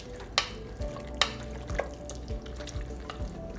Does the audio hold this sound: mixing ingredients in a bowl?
yes